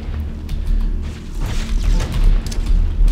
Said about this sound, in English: Everybody's throwing grenades too